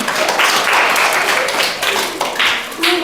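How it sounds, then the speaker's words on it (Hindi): A room full of people claps loudly and steadily for a quiz contestant, a dense, sustained round of applause with a brief dip near the end before it swells again. "फूलमती के लिए भी एक जोरदार ताली होना चाहिए"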